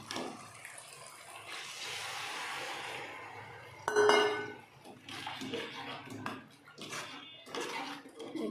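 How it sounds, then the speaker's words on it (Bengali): Water is poured into a pan of fish curry masala that has been cooked down until the oil separates. It makes a steady rushing splash for a few seconds, then brief clinks and softer kitchen clatter follow. "মশলা গালিয়ে তেল ছেড়ে গেছে, এবার আমি জল দিয়ে দেবো।"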